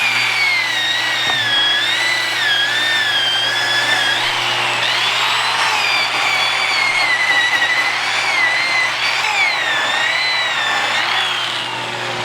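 A Restorer power tool fitted with a nylon brush strips live edge wood, its motor whining loudly and continuously for the whole stretch, the pitch wavering as the brush bites into the wood.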